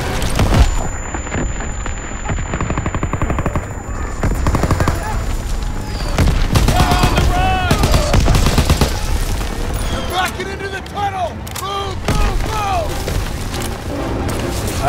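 Battle sounds in the video game Call of Duty: WWII, with dense bursts of rifle and machine-gun fire and booming explosions, including a grenade blast, continuing loudly throughout.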